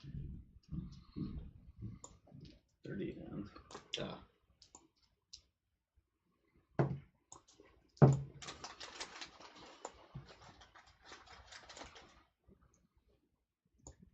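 Dice rolled on a table during a live-streamed D&D tabletop session: bursts of rattling clicks, with one loud clatter and a longer tumbling spread of small hard knocks, as players talk around them.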